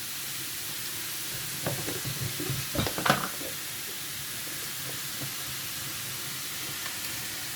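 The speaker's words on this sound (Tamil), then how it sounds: "இதில் நாங்கள் உடனே இந்த ஸ்பைசஸை போட்டுருவோம்." Spices tipped into hot oil with darkened turmeric for a banana blossom stir-fry hiss in the pan: a faint, steady sizzle broken by a few brief crackling, stirring bursts, with no talking.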